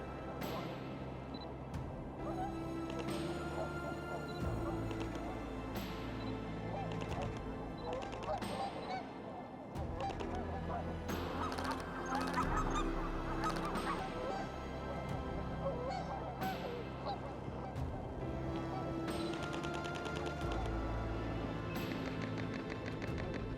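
Swans honk at a city park, their calls repeating throughout in a continuous chorus of loud nasal honks, with occasional camera shutter clicks and faint voices underneath.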